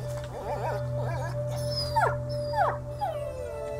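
Dog in a video game whimpering and yelping in short rising whines, then breaking into a few sharp howling cries over a steady low hum, loud and close.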